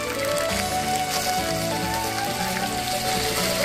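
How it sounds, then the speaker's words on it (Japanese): Chicken tempura deep-frying in a pan of oil, a steady, dense crackling sizzle that holds at an even, close level throughout with no talk. "少しカリッとしてきたらくっつかないように上下を返しながら、揚げ時間は約3分、揚げすぎに注意。"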